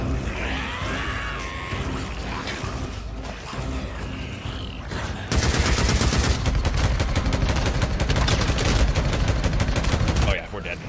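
Gunfire in the open-world survival game Days Gone on a New Game Plus run: a rough ambient stretch gives way to loud rapid automatic bursts near the middle, with groans mixed in.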